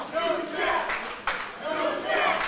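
Loud arena crowd cheering and roaring at a fight night boxing match, continuous dense noise with surging peaks and sharp bursts of shouting throughout.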